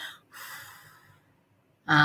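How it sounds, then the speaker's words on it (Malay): Slow breathing during a guided breathing exercise, with soft breaths in and out through the nose and a pause, then an abrupt louder burst at the end. "Tarik dengan hidung secara 3 detik"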